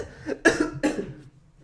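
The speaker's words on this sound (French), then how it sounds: "je suis en train de tousser comme un enculé" A person coughs, two harsh, close coughs in quick succession followed by a short rasping trail, clear against a quiet background.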